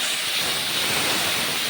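A steady, loud hiss as water hits a sizzling ginger and cumin paste in the pan while cooking potato and pointed gourd curry, a dense, unbroken rush of steam up close.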